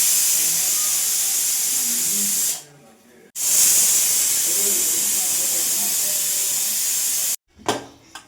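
A pressure cooker on the stove hisses steadily with escaping steam while chicken biryani cooks, broken by a brief gap and a sharper final burst, loud and close.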